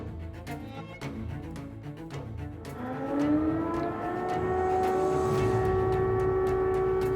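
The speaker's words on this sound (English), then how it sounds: "Air raid sirens blared out across the capital." An air raid siren winds up and holds a long, steady wail over distant rumbling in Kyiv, sounding loud and sustained across open space.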